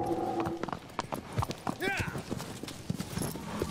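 Hooves of a horse ridden through a canyon in the video game Shadow of the Colossus remake, a quick steady clip-clop rhythm with a brief neigh partway through, with someone talking over it.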